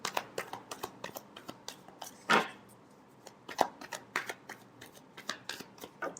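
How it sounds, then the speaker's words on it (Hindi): Tarot cards being shuffled by hand, a run of soft crisp riffling flicks and taps in an irregular rhythm, close and fairly quiet, with one fuller riffle partway through. "last shuffle"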